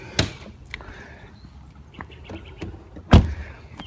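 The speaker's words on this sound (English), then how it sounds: "The way those doors close." Doors on a 2008 Bentley Continental Flying Spur shutting, two solid thumps close by, a lighter one early and a heavier, louder one about three seconds later, with faint clicks and handling noises between.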